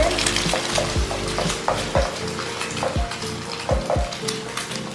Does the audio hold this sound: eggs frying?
yes